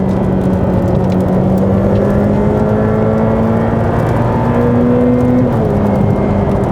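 A loud Ferrari F8 Tributo engine drones steadily, its pitch rising gradually as it revs, then dipping near the end.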